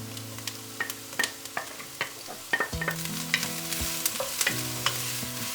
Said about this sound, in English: Now add your aromatics, onions, garlic, and carrots. Just let them soften.